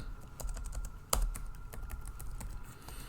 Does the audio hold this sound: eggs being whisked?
no